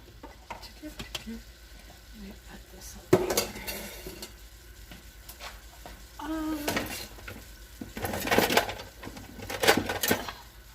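Partly frozen turkey breakfast sausage goes into a pot for Puerto Rican style chile and is stirred, making metal scrapes, clinks and a rising sizzle, close and intermittent, with no talking.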